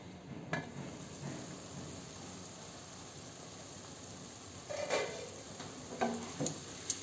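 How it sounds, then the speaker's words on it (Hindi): Masala with tomato and a little water frying in a covered pan over medium heat, a soft steady sizzle with a few scraping stirs and light utensil knocks near the end. "देखो कते नीक फ्राई भ गेल छै मसाला"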